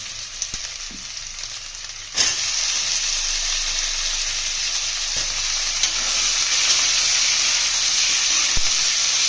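Potatoes frying in a pan for Bengali katla fish kaliya give a steady, close hiss and sizzle that jumps louder after a couple of seconds as they hit the hot oil, with occasional stirring scrapes.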